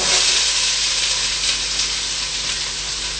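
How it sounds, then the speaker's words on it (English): Chopped onion and celery frying in olive oil make a steady, fairly loud hiss and sizzle that fades slightly over the few seconds. "Now that's onion, celery chopped up. This is going to cook away."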